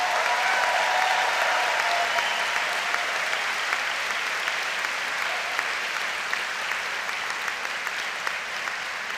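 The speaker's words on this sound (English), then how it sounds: "will you join me in a round of applause for the heroes of the class of" Steady, dense audience applause at a law school commencement ceremony honouring the graduating class, sustained at an even volume throughout with no talk over it.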